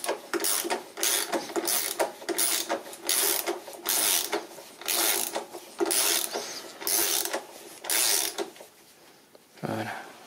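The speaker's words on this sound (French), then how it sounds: "je vais descendre un peu le cric pour qu'il prenne sa place" Car jack being lowered under a 1994 Renault Express 1.9 D during engine mount replacement, giving a rhythmic series of about ten close mechanical clicking, ratcheting bursts with short pauses between, no talk.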